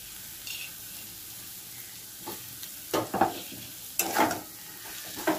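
A spoon stirs a potato curry with coriander leaves in a pan, giving a soft background sizzle broken by several scraping clinks and knocks, growing louder near the end.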